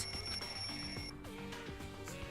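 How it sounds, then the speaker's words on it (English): A video game wall clock alarm rings with a steady high-pitched electronic tone, accompanied by shifting chiming notes; no talking. "The wall clock just started ringing."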